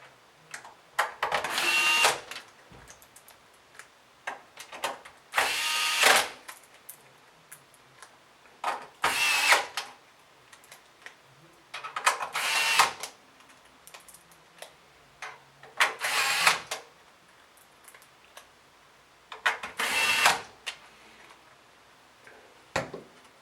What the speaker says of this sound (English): we can reinstall those 6 screws that we took out before.